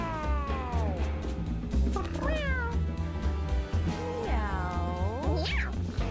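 Cats in the video game Mewgenics let out several drawn-out, rising and falling meows over steady background game music, one after another at close range.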